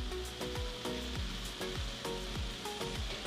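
Meat sizzling steadily in a hot pan while fajita and adobo all-purpose seasonings are stirred in for street tacos, with repeated scraping strokes of a utensil against the pan in a loose rhythm.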